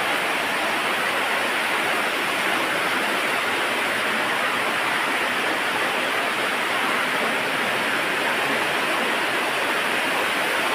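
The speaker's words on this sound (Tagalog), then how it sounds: "The underground river." Steady, full rush of an underground river flowing through Lobo Cave in Jiabong, Samar, Philippines, dense and unbroken throughout, churning close by with no voices.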